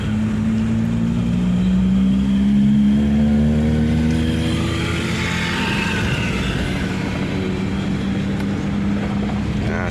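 Toyota Kijang Krista engine converted to a semi-automatic clutch, revving steadily at close range with a sustained drone that rises in pitch partway through, then holds at a high idle.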